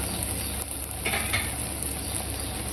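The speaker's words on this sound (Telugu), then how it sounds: "ఆదన్న కాయ ముక్కలు కూడా మంచిగా నూనెలో మగ్గినాయి" Ivy gourd pieces cooking in oil in a pan, with a steady close sizzle and a couple of brief stirring scrapes in the middle of the clip, no voices.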